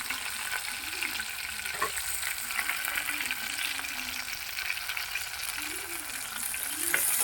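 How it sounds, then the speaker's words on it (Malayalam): Tomatoes sizzle as they fry in hot oil alongside small shallots, a steady close crackle with a faint voice murmuring in the background. "നല്ലപോലെ എണ്ണയിലൊന്ന് ആടിക്കെട്ടിട്ട് അപ്പോൾ നമുക്ക് അതിൻ്റെ കൂട്ടത്തിൽ തന്നെ നമ്മുടെ തക്കാളി ഇട്ട് കൊടുക്കാം."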